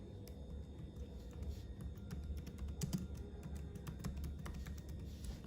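Quick, light keystrokes type out a formal letter to a bank branch manager. The close clicking runs in an uneven rhythm over a low background hum, with no voices.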